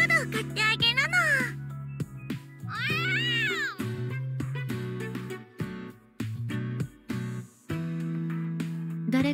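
A cat meows in a visual novel game, with several short rising and falling mews near the start and again around the third second, interspersed with a child-like voice speaking.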